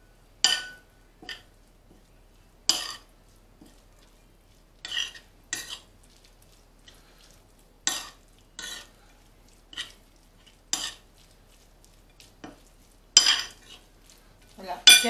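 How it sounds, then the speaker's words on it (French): Cheese, garlic and parsley being mixed in a bowl with a utensil, giving sparse, separate clinks and scrapes against the bowl between stretches of near silence. "Donc on va mélanger le tout."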